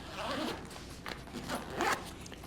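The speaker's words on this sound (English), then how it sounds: "And then we can zip up this pocket." Zipper on a pocket of a budget backpack being pulled closed, several quick close rasping strokes of varying length, quiet and alone.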